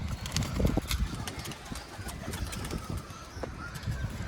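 Pigeons cooing and fluttering close by, with shuffling and scattered knocks, wings and soft voices in the background.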